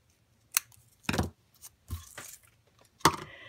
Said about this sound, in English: And then you just trim the edges off like that.